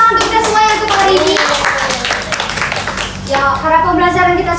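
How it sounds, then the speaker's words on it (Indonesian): A classroom of students claps their hands together at the end of a lesson, brisk scattered clapping close by, mixed with voices talking over it. "yuk kita beri tepuk tangan untuk kita semuanya untuk hari ini"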